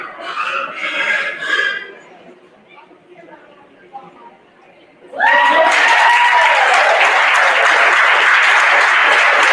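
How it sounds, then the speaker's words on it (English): Crowd applause erupts for the champion cattle showman and finalists in the ring at an FFA stock show, loud, dense clapping and cheering that swells suddenly after a voice over a PA and carries on steadily. "Let's give him another round of applause and all of our finalists in the ring."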